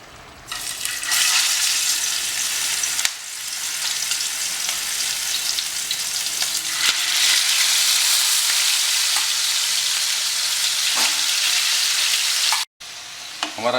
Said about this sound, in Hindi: इसके अंदर अब हम चिकन को फ्राई करेंगे।